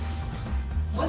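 A cat growls in a long, low, continuous rumble at close range, with slight swells in loudness and no pauses.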